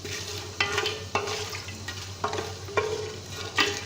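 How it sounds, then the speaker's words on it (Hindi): Whole spices and cumin seeds roasting in a pot, a soft sizzle broken by several sharp scraping stirs of a spoon at uneven intervals, close up with no talking. "और इसको भी रोस्ट करेंगे।"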